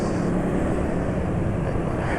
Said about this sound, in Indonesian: suara mesin juga halus mulai dari bawah sampai atas